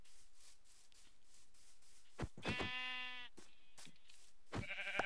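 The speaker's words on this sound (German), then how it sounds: "Da sind noch mehr Schafe." Blocky Minecraft sheep let out a pair of nasal, wavering bleats, loud and close, the second following a couple of seconds after the first over faint background game noise.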